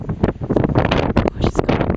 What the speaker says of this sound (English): gosh, it's got windy